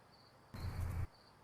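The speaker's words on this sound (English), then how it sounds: "there's too much background noise, because there's like some crickets outside" Crickets chirping outside at night, a faint steady insect chirp heard alone, swelling into a louder burst of chirping and rumble midway before dropping back to the quiet trill.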